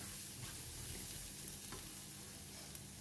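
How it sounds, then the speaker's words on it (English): Garlic stir-fries in leftover oil in a pan, a quiet, steady, even sizzle with faint stirring ticks, heard alone. "In the same pan, switch on the heat. We still have some oil left in the pan. Add in the garlic, stir fry for about 3 minutes"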